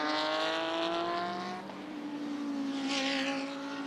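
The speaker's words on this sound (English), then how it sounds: "Through comes the Grove car." The Grove race car passing at the Bathurst 12 Hour endurance race, a high engine whine sweeping past with falling pitch, then rising again as another revving pass follows, moderately near with no talk.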